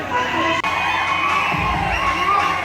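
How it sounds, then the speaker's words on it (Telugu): A packed cinema audience at a screening of Kalki 2898 AD shouts, whoops and cheers loudly in the theatre, a dense wall of crowd voices with one brief dip partway through. "ఇంకందరూ కోహ్లీ రాగానే అందరు అరుస్తున్నారు"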